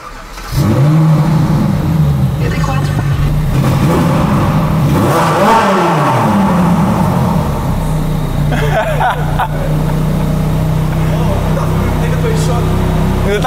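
A Ferrari engine revs loudly and close, rising and falling through several throttle blips before settling into a steady idle, with people talking briefly over it.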